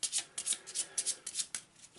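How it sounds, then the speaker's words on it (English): A deck of Arkham Horror board game cards is shuffled by hand, with quick riffling bursts that repeat in a rapid, uneven rhythm. The sound is close and crisp, with no voices. "Just give it a quick shuffle."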